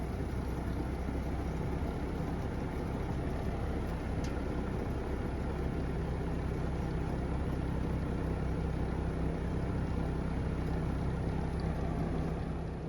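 A Bosch HVAC unit's fan runs on its own before the compressor starts, giving a steady, loud, even whooshing hum with a low drone that holds unchanged throughout.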